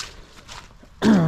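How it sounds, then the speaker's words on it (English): A person coughs and clears their throat while out walking on a cold hillside, soft scuffs and faint breathy sounds at first, then one loud, close, raspy throat-clearing burst at the end. "Sorry about all the coughing and wheezing and snotting everywhere."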